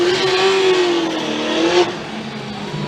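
Supercharged V8 Formula Drift cars roar loudly at a 2013 Palm Beach top-16 event, one engine holding a steady high revving note that shifts pitch, with broad track noise around it.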